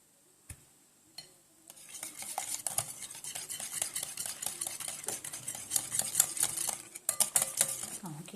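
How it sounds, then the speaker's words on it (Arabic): A spoon works through a semolina cake batter with orange juice in a bowl, starting with a couple of isolated taps and then settling into continuous rhythmic clinking and scraping against the bowl, close and fairly quiet. "كيف كتشوفوا انا كنخلط دابا مزيان باش نسالي هاد العناصر"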